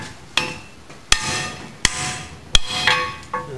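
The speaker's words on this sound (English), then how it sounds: "if we take our hammer and smack this thing" A hammer knocks at the rear cam plug of a Chevy 250 engine, five sharp metallic strikes spaced under a second apart, each ringing briefly before the next.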